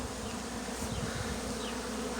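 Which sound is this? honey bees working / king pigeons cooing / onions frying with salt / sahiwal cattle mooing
honey bees working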